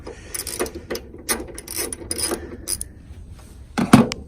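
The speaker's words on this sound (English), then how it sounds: "I had to hold my ratchet into place while I broke it loose." A ratchet wrench clicks in short quick bursts while loosening a bolt on the hood of a Mazda RX-8, close and fairly loud, ending in a heavier clunk, with no speech.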